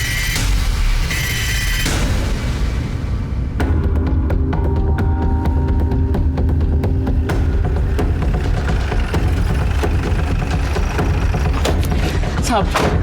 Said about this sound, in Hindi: साहब अंदर गोली चली है साहब.